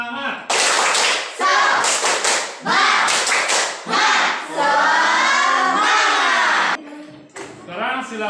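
Classroom group of teachers standing to do a rhythmic spirit clap, bursts of loud, patterned clapping mixed with voices chanting and talking, close and lively.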